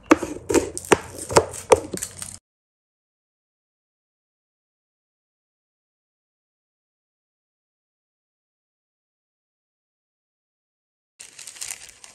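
A knife chops garlic finely on a board, a quick run of sharp taps for about two seconds, then a long silence before faint chopping resumes at the end.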